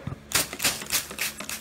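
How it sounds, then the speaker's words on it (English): Solder flux sizzling as a soldered joint is reheated during flux removal: a series of hissy, crackling bursts arriving in quick uneven pulses, close and fairly quiet, with no voices. "I'm going to heat it back up just a little bit until I see the flux sizzling."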